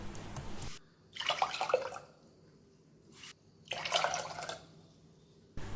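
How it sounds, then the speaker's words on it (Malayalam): Water is poured from a cup into a pressure cooker holding lentils in three separate splashing pours, each about a second long, with quiet gaps between them and no voices. "3 കപ്പ് വെള്ളമാണ് നമ്മൾ ഇതിലേക്ക് ചേർക്കുന്നത്"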